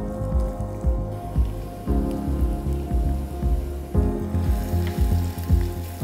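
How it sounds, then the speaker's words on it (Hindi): Chopped onion hits hot oil and fries with a loud, steady crackling sizzle that runs unbroken, with a faint low hum beneath. "इसमें हम सब में पहले तेल गरम करने के बाद हम डालेंगे चॉप्ड अनियन"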